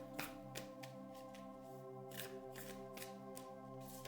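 Animal spirit oracle cards being shuffled by hand, with soft repeated riffling flicks close by over a steady low hum, no talking.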